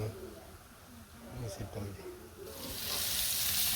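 Pangas fish frying on a village stove: a low voice and light clatter at first, then a steady, loud sizzle swells up and hisses on to the end.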